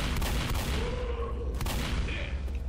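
Video game gunfire in Left 4 Dead's No Mercy campaign, a few sharp shots at moderate distance, fairly faint over a low rumbling background.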